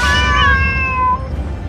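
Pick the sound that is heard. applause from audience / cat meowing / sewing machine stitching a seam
cat meowing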